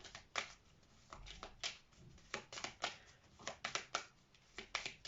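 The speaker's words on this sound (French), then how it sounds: "je vais recouvrir ces deux cartes" Tarot cards being laid over two others on a table: soft, close papery slides and taps in an uneven rhythm, quiet, with no talk.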